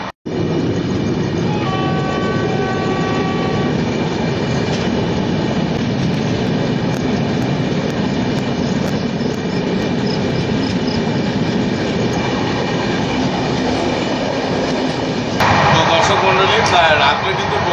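Humsafar Express train running on the rails, a loud steady rumble with rhythmic clatter and occasional high wheel squeal, continuous throughout while a person talks over it.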